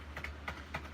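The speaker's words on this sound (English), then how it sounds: "Guess I'll have to make do with the keyboard here." Soft clicking of keys on a computer keyboard attached to an old Windows XP machine with 128 MB of RAM, a few irregular taps at low level over a steady background hum.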